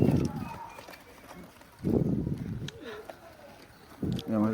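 Pigeons of an old Khulna bloodline, chot and nak-tana breeds, cooing in low throaty bursts, three separate coos close by, with someone talking in between.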